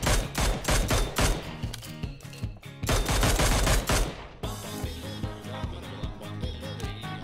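Rapid automatic gunfire from the mobile battle-royale game Game for Peace (PUBG Mobile) comes in dense, loud bursts with brief pauses between them, over continuous game sound.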